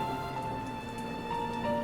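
Steady rain falls and patters on surfaces, a dense, even shower heard up close with faint tonal hum underneath and no voices.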